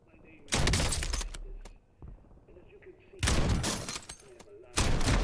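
Bursts of automatic gunfire from a Call of Duty Warzone battle royale match hit in three loud rapid volleys, with quieter stretches of game noise between them.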